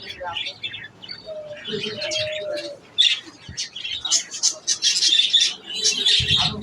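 Pigeons and assorted caged birds at a large bird shop chirp, tweet and coo in a dense, continuous chatter, fairly close, with faint human voices mixed in.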